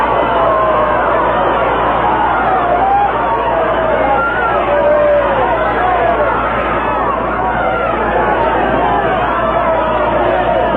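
Afternoon crowd murmurs and chatters steadily throughout at a Wednesday Mets vs Padres baseball game in the stadium, a dense, continuous hubbub of many distant voices with no sharp cheers.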